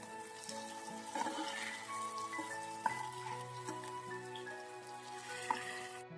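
Chicken sizzling and roasting on a flat tawa griddle at high flame, a continuous frying hiss with small pops and crackles under steady background music.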